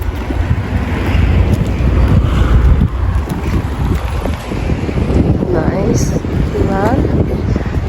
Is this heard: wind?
yes